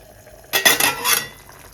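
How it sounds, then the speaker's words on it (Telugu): A brief clatter of dishes and cutlery being washed at a home sink, about a second of clinking metal and splashing water that rises suddenly and fades against a quiet background. "అంట్లుంటే కొన్ని తోమేశాను."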